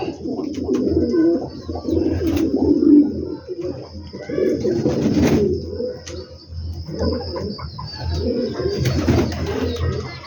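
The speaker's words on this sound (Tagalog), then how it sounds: "May special na ibon tayo. Yung ibon ko na to." A pet pigeon or dove coos steadily at close range, with soft repeated throaty calls layered over faint background hum and no speech.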